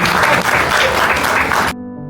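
Loud, close applause from an audience at a book launch event bursts out in a thick, continuous clatter, then cuts off abruptly, leaving faint background music.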